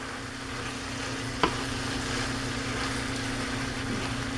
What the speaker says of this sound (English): Stir that up some more.